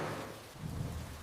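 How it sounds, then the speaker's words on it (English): Rain falls steadily on the roof of a wooden house under construction, a dense, even hiss of drops that swells slightly midway, with no voices. "Rain sounds peaceful on the roof."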